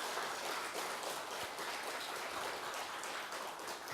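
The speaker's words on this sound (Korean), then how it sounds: "여러분 법정 큰 스님께 박수 한번 보내주시기 바랍니다" A Buddhist dharma assembly audience applauds the monk Beopjeong, giving steady, even clapping that sounds soft and somewhat distant for the whole stretch.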